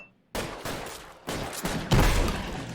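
Gunshots in L.A. Noire ring out as several sharp, loud reports after a brief silence, the last burst the heaviest, with no one speaking.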